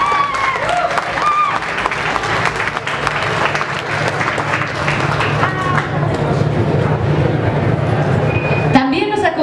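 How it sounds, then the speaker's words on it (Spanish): Dense, loud applause from a crowd welcoming costumed performers onto the stage at a Vocaloid event, sustained for about nine seconds with chatter and cheers mixed in before it drops away abruptly at the end. "Los recibimos con un aplauso"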